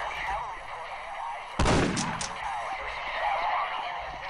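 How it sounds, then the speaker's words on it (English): A gunshot in the video game Postal 2: a single sharp, loud crack with a quick decaying tail, standing out against the steady game ambience. "Shots fired. I repeat, shots are fired."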